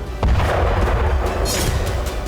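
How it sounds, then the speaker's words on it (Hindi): A heavy boom bursts out near the start as a drone strikes a container, followed by a rumbling, noisy aftermath that fades unevenly. "यह ड्रोन यहां रखे कंटेनर से टकराया, जिसके बाद एक छोटा धमाका देखा गया"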